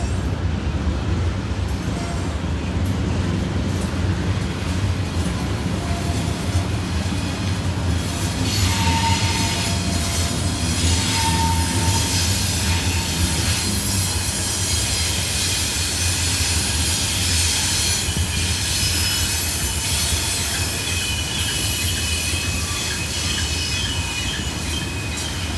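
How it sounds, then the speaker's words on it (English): A long coal train led by six locomotives eases downhill around Horseshoe Curve in Pennsylvania, a continuous loud rumble of passing wagons with wheels squealing on the curve and faint rail clatter, and no voices. "Got a train almost all the way around me."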